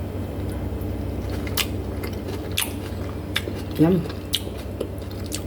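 Green mango salad with salted egg and tomato is eaten close up, with soft crunching and chewing over a low steady hum and one brief spoken word.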